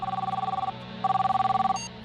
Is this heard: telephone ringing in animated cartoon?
yes